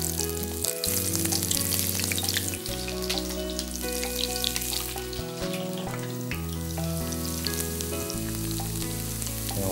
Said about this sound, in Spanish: Y ahora vamos a ponerla al aceite.